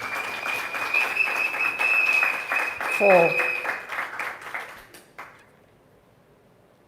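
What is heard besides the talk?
audience applause for visiting senator and MPs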